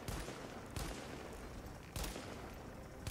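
Three sharp rifle shots from a marksman weapon in the video game The Division, spaced about a second apart, each with a quick crack and short decaying tail, no talk over them.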